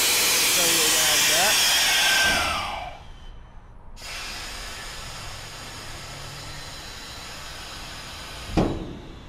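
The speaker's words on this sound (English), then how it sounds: "this is the manual valve for the belly" Compressed air hisses loudly and steadily from the manual belly valve on a 2023 Transwest Armor Lite belly dump trailer, then drops to a quieter hiss with a short burst near the end.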